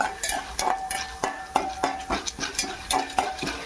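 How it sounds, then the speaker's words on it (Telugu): Curry leaf powder ingredients roasting in a pan over medium heat, with a steady rhythm of spoon scrapes and stirring clatter against the pan over a soft sizzle, close up and without talk. "ఒకగా సిమ్లో కాకుండా మరీ హైలో కాకుండా మీడియంగా పెట్టుకొని మంచి గోల్డ్ కలర్ వచ్చేదాకా మనం వేపుకుందాం."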